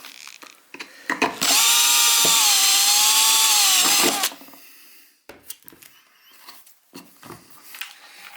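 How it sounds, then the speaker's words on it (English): An electric drill bores a hole through the mounting surface for a Picatinny rail on a Tikka T3 rifle, a loud steady whine lasting about three seconds, followed by scattered handling clatter. "Now you've got your hole drilled"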